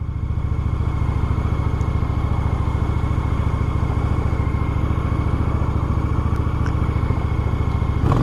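A motorcycle engine runs steadily throughout, a close, even, throbbing mechanical rumble with a rapid regular pulse and no talking.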